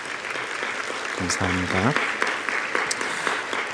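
A church congregation at a young adults' Sunday worship service applauds to welcome a visiting missionary, a steady wash of clapping that carries on under a short spoken thank-you from a man.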